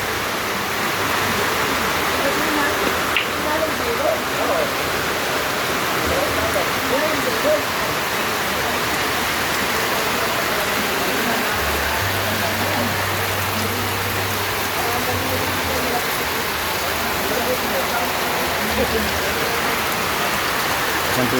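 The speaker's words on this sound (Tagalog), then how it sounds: "nabutan po kami ng ulan" Heavy, steady rain pours down continuously, a dense hiss of drops close by, with a low rumbling hum underneath in places.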